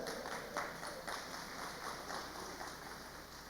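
A congregation gathered for a Bible lesson claps together, a steady, moderately distant patter of many hands that carries through the short stretch at an even level without clear speech on top.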